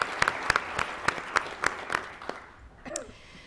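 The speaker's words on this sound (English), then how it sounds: "could you please give them a round of applause for that amazing feat?" A small audience at a college board meeting claps for staff marking a 45th anniversary, steady separate claps that fade out near the end, followed by a brief voice.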